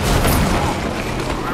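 Gunfire in the video game Fortnite, a loud burst of booming shots packed into a short moment, with a voice talking over it.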